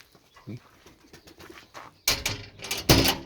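Pigeon cooing from a loft of white fancy pigeons: soft, low coos early on, then louder, fuller bursts close by in the second half, with faint voices in the background.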